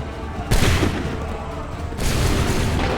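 Musket volley in Assassin's Creed 3, a sudden loud crackling burst of many guns at once that lingers as a rumbling roar, followed by a second massed volley about a second and a half later.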